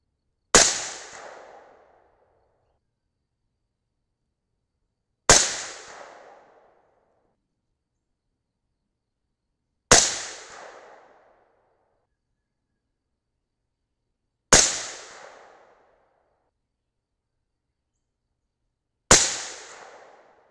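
Five sharp .223 Rem rifle shots firing 77gr Sierra Match King bullets over a PowerPro Varmint load, spaced about every five seconds, each a loud crack followed by a short decaying echo with silence between.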